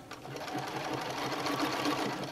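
A sewing machine runs a zigzag stitch along the end of a knit headband, a steady close mechanical whirr with fast rhythmic needle clatter throughout.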